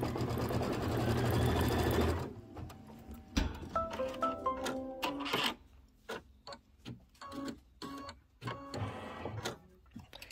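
A sewing machine sews a diagonal seam across quilt pieces for an autumn pumpkin block, whirring steadily at first, then giving way to a series of separate clicks and mechanical taps, close and with no voices.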